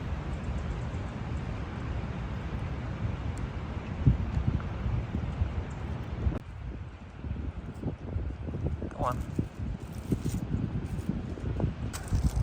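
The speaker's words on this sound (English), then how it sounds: "it's so windy that it's just not safe to be standing under all these dead trees" Strong wind buffets the microphone in a constant low roar with gusty surges on a wooded Georgia hillside of dead trees, while a voice speaks briefly.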